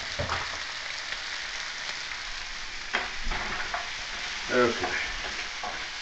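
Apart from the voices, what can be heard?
rajma curry frying and being stirred in pan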